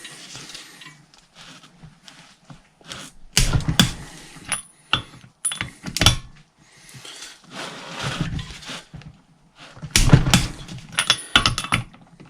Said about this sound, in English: Not the traditional way to use a torque wrench, but whatever works.